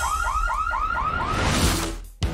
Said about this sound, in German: Was? Ein Alarm?